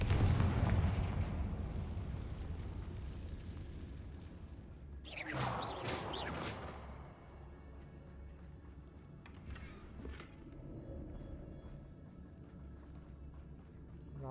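Confringo spell blasts in the video game Hogwarts Legacy, a burst of fiery whooshing explosions followed by a second shorter blast, over a low rumbling game ambience with horse-like clopping early on.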